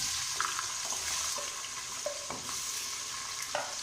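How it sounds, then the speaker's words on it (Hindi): Onions sizzling and frying in oil in a pressure cooker, with a constant hiss and occasional scrapes of a spoon stirring. "प्याज को हम हल्का फ्राई कर लेंगे"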